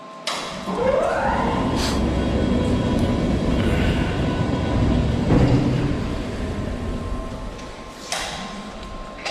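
A Clad Boy CB3 lifter being hoisted out of a shipping container, a steady loud mechanical rumble and whine with occasional metallic clanks and scrapes.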